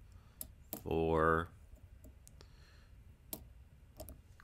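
Sharp, dry clicks from pins inside a Segal pickproof lock being picked, sparse and quiet, spread across a few seconds with a low room hiss; someone briefly speaks a single word between them.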